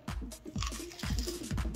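A bite into a crunchy McGriddle-style McDonald's breakfast sandwich with cheese and meat, close and loud, with several crisp crunches followed by chewing.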